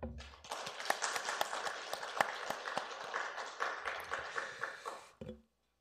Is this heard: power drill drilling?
no